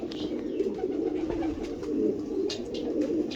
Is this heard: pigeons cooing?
yes